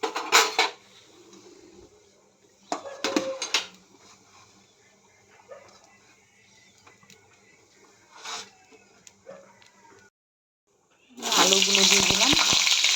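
Cumin seeds hit hot oil for a vegetarian aloo dum, with scattered utensil clatter and quiet stirring before a loud, steady burst of sizzling near the end.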